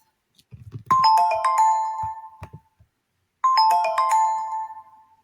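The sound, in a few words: office phone system ringing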